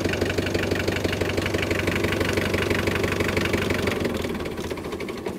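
Tractor engine running at full throttle while turning hay during harvest, a loud, steady diesel roar with a rhythmic knocking pulse, easing slightly toward the end.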